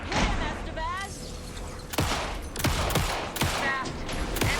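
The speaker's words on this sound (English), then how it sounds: "Anderson, pin him down with gunfire for me to get the light on him." Bursts of rapid gunfire crack repeatedly amid a busy Alan Wake 2 game soundscape, with voices talking over the shots.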